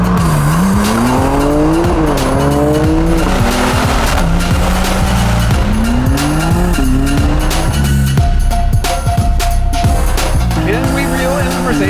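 A Tesla Model 3 Performance, BMW M3 CS and AMG C63 S E Performance racing hard, with loud engine notes rising and falling through gear changes, a steady electric whine, and tire squeal, continuous and close.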